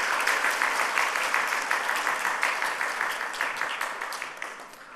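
A church congregation applauds a couple about to marry, a dense, steady wash of many hands clapping close by that holds for about five seconds and then tapers off at the end.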